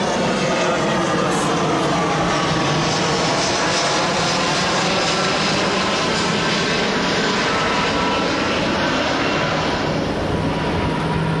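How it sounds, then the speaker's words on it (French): Airplane passing overhead, a loud, steady broadband engine roar that fills the whole stretch without fading, with no talk over it. "On va laisser passer cet avion."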